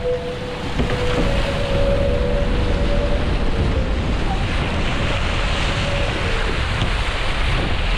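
A sailing catamaran hit by a wind gust in choppy water during sunset training: steady wind roar buffets the microphone while water chops and splashes against the hulls.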